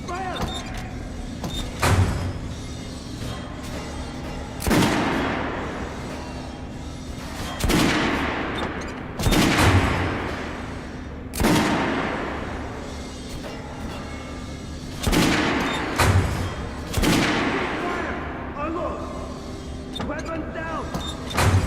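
Rifle volleys from Ranger Army weapons, including Kalashnikovs, in the Metro Last Light Redux shooter: sharp loud shots ring out at intervals of about three seconds, each with a ringing tail, over a low steady hum and a murmur of voices.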